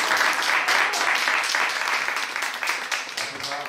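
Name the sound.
applause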